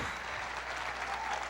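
A church congregation applauds during a sermon, and dense, even clapping fills the room at a constant level throughout.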